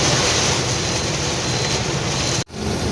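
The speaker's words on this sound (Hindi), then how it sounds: "अचानक से हवा चल रही है बड़ी ख़तरनाक वाली, बारिश आ चुकी है।" Heavy rain lashing down in strong, dangerous wind during a sudden storm, a dense, steady roar of water and gusts filling the whole clip with one brief dropout near the end.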